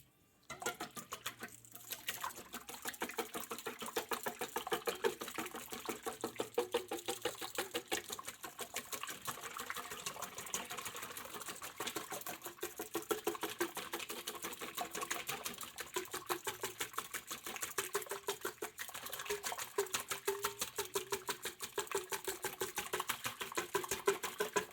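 A hand whisk beats batter in a bowl, making rapid, steady, close-up scraping clicks that continue evenly for about 25 seconds with no talking.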